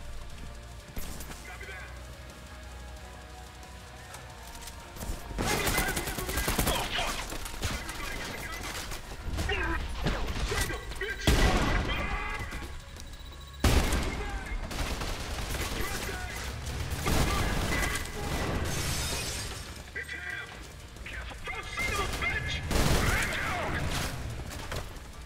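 Gunfire in the shooter game Trepang2 rattles in loud bursts that smash beer bottles, with sharp cracks and crashes across a long stretch and a voice talking intermittently over the action.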